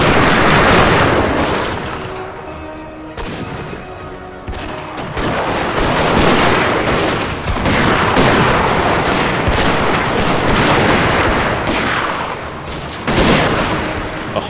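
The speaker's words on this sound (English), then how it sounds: "I love the sound of the guns" Musket volleys and artillery fire from a Napoleon: Total War battle, a loud, sustained roar of overlapping gunshots and booming cannon with repeated sharp cracks rising above the din across the whole stretch.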